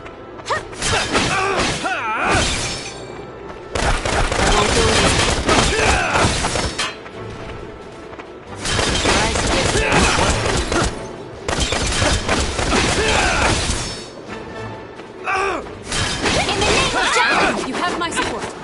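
Gunfire in the Valkyria Revolution battle, loud bursts of shots and crashing impacts in long stretches separated by short lulls, mixed with shouted voices and battle noise.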